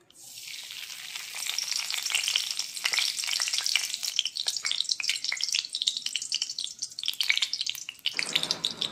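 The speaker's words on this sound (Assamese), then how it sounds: "কেৰাহীত তেল গৰম হোৱাৰ লগে লগে এয়া তেজপাত দিলোঁ, শুকান জলকীয়া দিলোঁ, কালজিৰা দিলোঁ, জিৰা দিলোঁ।" Bay leaf, dry red chilli, nigella and cumin seeds crackle in hot oil in a karahi, a loud, dense, steady spluttering sizzle that continues alone with no talk before thinning out near the end.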